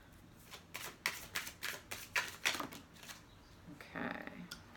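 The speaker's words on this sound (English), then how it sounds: "we got too many cards, so I'm gonna keep shuffling" Tarot cards shuffled by hand in a series of quick riffling bursts, close and crisp, with a steady rhythm of flicks and a final softer run of cards.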